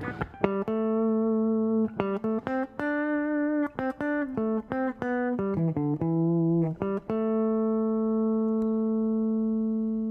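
A heavily compressed electric guitar through an MXR Dyna Comp pedal plays a run of sustained, evenly leveled notes and chords, each held long and flat with little decay, alone.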